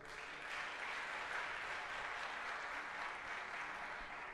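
A church congregation applauding together, a dense continuous clapping that stays steady and fairly distant for several seconds with no speech over it.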